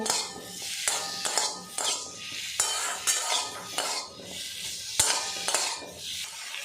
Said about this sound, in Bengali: আপেলটা একটু নাড়াচাড়া করে ভাজা ভাজা করে নেব।